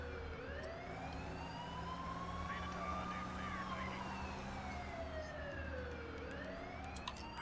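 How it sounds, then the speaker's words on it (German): An emergency vehicle siren in the city-building game SimCity 4 wails in slow rising and falling sweeps over a low engine drone, fairly faint and continuous throughout. "Wenn Sirene ist, dann geh aus dem Weg."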